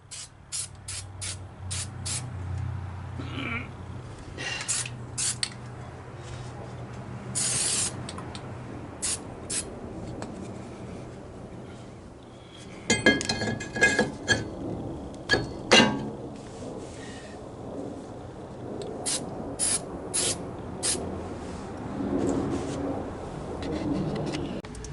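Short bursts of Fluid Film rust inhibitor spray hiss from an aerosol can onto the brake and axle area of a 2020 Ford Escape, repeated sprays separated by pauses, with clunks and rubbing of tools in between.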